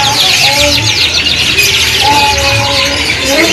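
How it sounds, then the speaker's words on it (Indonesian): A canary sings a busy stream of high, warbling trills and chirps, loud and close, with a low background murmur underneath, at a bird shop. "ini sedang berbunyi sahabatku dari burung kenari"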